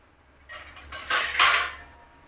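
A metal lid set onto a cooking pot of simmering Tamil eggplant vatha kuzhambu gives a brief clattering scrape of a few quick knocks, soft and close, with no talking.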